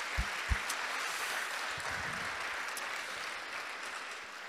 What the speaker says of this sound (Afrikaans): kom ons klap hande vir hulle ook